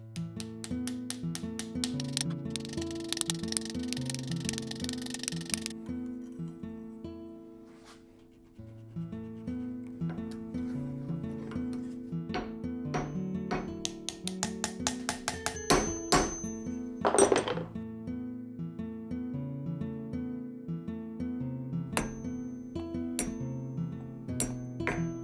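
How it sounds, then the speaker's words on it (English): Rapid, repeated metallic taps of a ball peen hammer on a metal knife guard, ringing with a bright clink, in irregular bursts with short pauses. "I was using the ball peen hammer"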